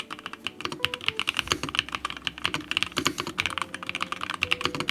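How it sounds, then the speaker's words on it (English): Brisk typing on a computer keyboard in a graphic designer's home office, rapid close clicks and clacks in an uneven continuous rhythm with no talking. "I really love this keyboard."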